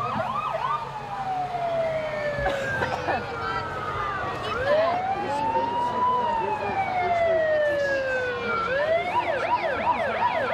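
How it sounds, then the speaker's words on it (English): Fire truck sirens at a Christmas parade wail and whoop continuously, rising and falling in overlapping sweeps over steady crowd and street noise, loud and close. "the sirens of the fire trucks, things are going to get a little loud for the next few minutes"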